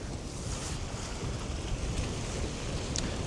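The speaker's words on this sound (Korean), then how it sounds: "바다 중간으로 들어갈수록 이 파도 일렁임이 좀 심하네요. 파도 소리도 많이 들리고" Sea waves wash and surge steadily near small islands linked by a walking trail, under constant wind buffeting the microphone, with no voices.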